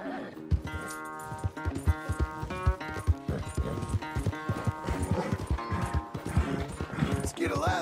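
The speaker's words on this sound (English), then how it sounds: "Where's that big mean horse?" Horse hooves clip-clop in a steady run with an occasional neigh in Red Dead Redemption 2, mixed with game music and someone talking over the gallop throughout.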